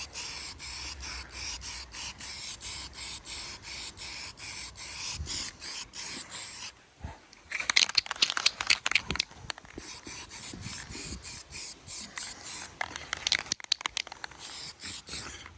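Aerosol primer sprayed onto jet ski parts: a rapid run of short, close hissing bursts, then a brief pause and a louder stretch of uneven spray hiss with small clicks and rustles.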